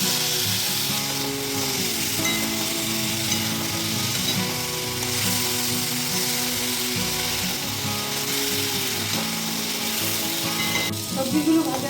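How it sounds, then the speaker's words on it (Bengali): Vegetables for khichuri fry in a pan with a steady, close sizzling hiss that runs through the whole stretch, with tonal background music underneath and a brief clatter near the end. "সবজিগুলো ভাজা হয়ে গেছে, আমি নামিয়ে রাখছি"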